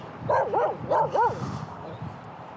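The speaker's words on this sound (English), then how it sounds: "Oh my goodness, dude, these dogs." Dogs bark in two quick bursts of several close, loud yips and woofs, with a few softer barks trailing off and no talk over them.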